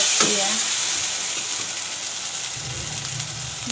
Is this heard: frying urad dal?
yes